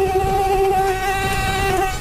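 Mosquito whining in a steady, loud, close high-pitched buzz that holds without a break, with faint low rumble underneath and no talking.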